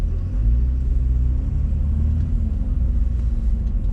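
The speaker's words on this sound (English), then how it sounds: "the way traffic is building up on Riverside Drive, that's probably not going to happen" Steady low rumble of car traffic moving along Riverside Drive in New York City, heard from inside a vehicle, a continuous engine and road drone with no voices.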